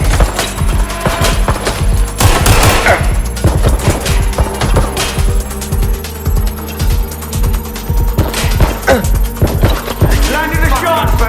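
Gunfire in the video game Watch Dogs Legion: loud bursts of rapid shots and single cracks in irregular clusters, with clattering impacts between volleys and short quieter pauses.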